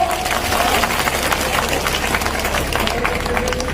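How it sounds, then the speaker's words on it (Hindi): An audience at a village gathering in Ashoknagar district claps in a steady dense patter of many hands, sustained and fairly loud throughout with a faint background voice. "अगर अच्छा लगा तो ताली बजाओ"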